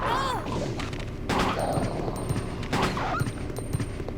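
Gunshots at a dog in the video game Resident Evil Code Veronica X ring out as several sharp, separate blasts spaced a second or two apart over low background noise.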